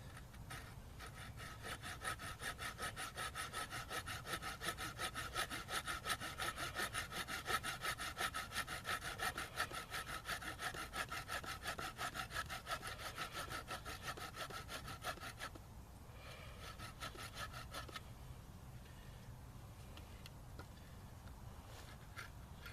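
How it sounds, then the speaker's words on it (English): Hand saw cutting a V notch into a piece of wood, a close, steady rhythm of rasping back-and-forth strokes that runs throughout, briefly pausing and then continuing more softly, with no talk. "We'll do that with the saw as well."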